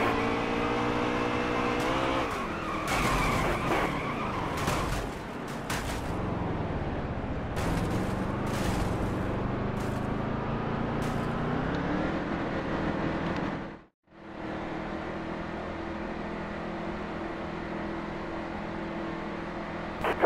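Race cars on track at the Food City 500 NASCAR race, engines droning and revving with rising and falling pitch as cars pass, loud and continuous, with a brief dip before the roar resumes.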